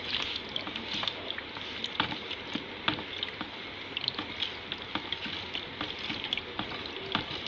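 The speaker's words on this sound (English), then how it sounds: "A little bit of the alcohol. Then I'll start stirring again." Alcohol being stirred into a homemade hand sanitizer mixture: a steady wet swishing and sloshing with small clicks of the utensil against the container, close and moderately quiet, with no talking.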